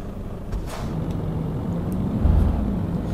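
Truck engine droning in Euro Truck Simulator 2, a steady loud low rumble of a heavy lorry cruising along the road with a slight swell partway through, no speech over it.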